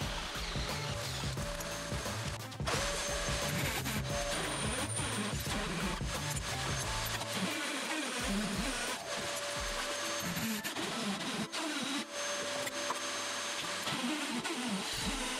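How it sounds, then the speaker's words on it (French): A hole saw grinds through two layers of hard plasterboard facing to cut an opening for an electrical box, the loud rasping drill whine churning continuously with uneven bursts as the teeth bite through. "Et hop, à la scie cloche"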